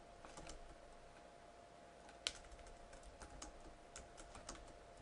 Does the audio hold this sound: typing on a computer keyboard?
yes